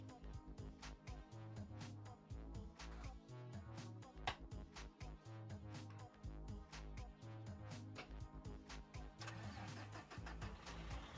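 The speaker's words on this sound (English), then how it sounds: "And let's turn the engine." A truck engine cranks and starts in American Truck Simulator, with rhythmic mechanical chugging and clicks under a busy, pulsing backdrop, sounding close and fairly steady.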